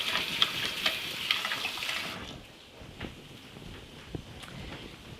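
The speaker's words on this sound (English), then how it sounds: "I'm going to rinse my fingers." Running tap water splashes steadily over fingers for about two seconds, a bright close hiss that then cuts off, leaving quieter kitchen rustle and a few soft knocks.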